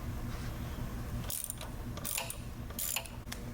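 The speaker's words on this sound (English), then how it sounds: "Gonna remove this bolt right here, which is a T45 Torx." A ratchet wrench loosens a T45 Torx bolt on a BMW S1000RR motorcycle during an exhaust install, with several quick clicking bursts over a faint background hum.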